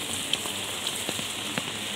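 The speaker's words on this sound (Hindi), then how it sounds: "तो इतना बारिश हो रहा है ना" Steady rain falls on an outdoor surface during a rainy morning walk, a continuous soft patter with a few sharper drips and splats standing out; no one speaks.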